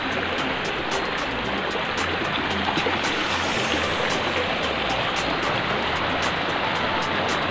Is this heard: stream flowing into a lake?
yes